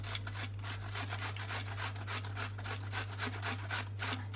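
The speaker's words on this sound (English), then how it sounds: "I'm just going to grate some courgette" A courgette is rubbed against a grater in a steady run of quick, even rasping strokes, close up and fairly quiet, with a constant low hum underneath.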